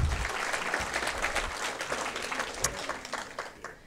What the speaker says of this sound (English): please give a round of applause for our expert panel here tonight